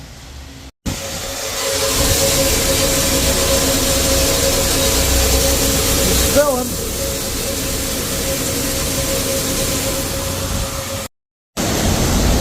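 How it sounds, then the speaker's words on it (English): A farm grain dryer starts up while corn is harvested, its fan settling into a loud, steady broadband roar with a constant hum, briefly cutting out twice; a few words are spoken over it. "Getting the dryer started up here."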